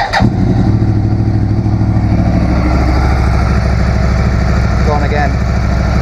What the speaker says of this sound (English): let's start the engine again and see what happens this time